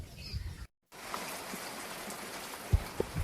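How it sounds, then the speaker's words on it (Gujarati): Rain falls outdoors as a soft, steady patter of drops. A brief silent break interrupts it, and a few louder drips land near the end. "વરસાદ ચાલુ થઈ ગયો છે"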